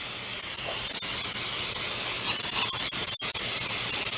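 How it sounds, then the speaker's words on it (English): Cooking spray hisses onto a bundt pan in one long continuous close spray, briefly broken once near the end, with no talking. "I'm gonna go ahead and spray the whole thing."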